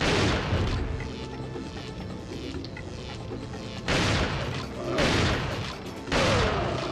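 Gunfire in the video game Resident Evil 4, several heavy booming shots in a row, loud and close, with game sound continuing between them.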